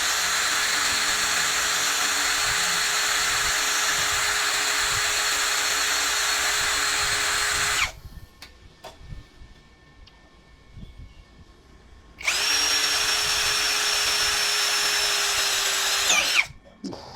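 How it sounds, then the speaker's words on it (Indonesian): A Gtools GT34+ cordless impact drill runs in drilling mode at speed 2 into a meranti wood beam, giving a loud, steady high whine in two long bursts with a quiet pause between them. "Ini balok meranti. Kita akan coba pakai speed 2 dulu, mode drilling."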